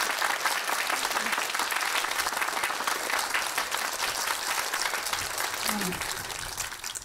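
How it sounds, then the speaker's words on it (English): Sustained applause and clapping from an audience at a Buddhist sutra lecture, steady and moderately loud throughout, with faint voices mixed in. "your hoorah and clapping"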